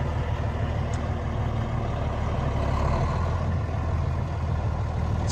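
A 2001 Freightliner Century 112 truck with a Cummins diesel and 10-speed Eaton manual transmission, being driven forward and in reverse. It gives a steady, loud, close diesel rumble throughout, with no talk.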